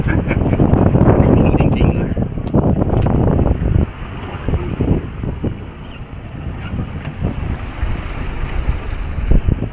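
Strong wind buffets the microphone while sea waves slap and churn around a fishing boat off Chumphor, loud and continuous with gusty bursts, and people talk intermittently over it.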